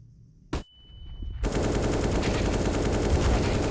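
Counter-Strike gunfire during a professional match: a single sharp shot, a brief lull with a thin tone, then a sustained, loud burst of rapid automatic fire that continues to the end.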